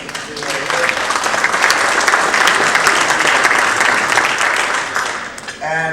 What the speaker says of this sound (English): Take a round of applause for Pan-Cyprians of Washington, D.C.